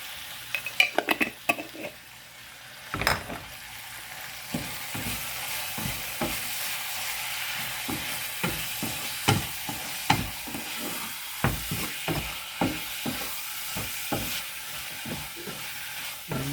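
Chili powder is stirred into an eggplant and chickpea curry frying in a pan, with a soft continuous sizzle and repeated scraping clinks of a spoon against the pan up close, and no talking.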